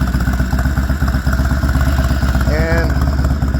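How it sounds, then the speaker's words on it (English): A restored Norton motorcycle engine runs steadily with a loud, even, throbbing rhythm, close up, and a brief higher whine rises briefly near the end over the constant beat. "The engine is smooth."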